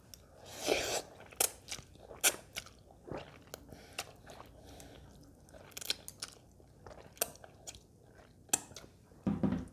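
Close, crisp bites and slurpy chewing of thick Nongshim Chapagetti jajangmyeon noodles in a rich black-bean sauce, coming in irregular bursts with soft squishes between, no talking.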